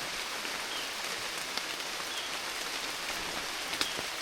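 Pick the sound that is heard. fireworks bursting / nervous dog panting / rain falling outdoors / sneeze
rain falling outdoors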